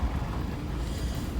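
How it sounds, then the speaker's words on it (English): Steady wind roars and buffets the microphone on a snowy mountain road after a blizzard, making a continuous low rumble with no voices. "It's a little bit windy right here."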